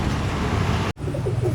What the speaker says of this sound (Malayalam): ഇതാണ് അടുത്ത പ്രാവ്